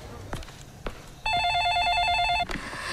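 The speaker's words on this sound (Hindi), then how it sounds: "फोन को भी अब भी आना था" A home telephone rings during a power outage, a bright electronic trill lasting just over a second, fairly loud against quiet background sound.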